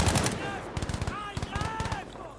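Rapid gunfire bursts in Battlefield V, a World War II shooter, crackling in several quick volleys close up with short pauses between them.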